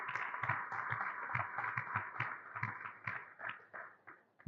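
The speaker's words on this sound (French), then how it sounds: "Applaudissez pour Madame Exaucé Saou." Applause from a small audience for a quiz show contestant, scattered hand claps at uneven pace, moderately close and fading toward the end.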